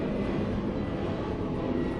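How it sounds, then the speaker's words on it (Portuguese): Airplane passing overhead, heard as a steady, fairly loud broadband roar with a low rumble that holds evenly throughout, with no voices. "Quando que o avião começou a passar?"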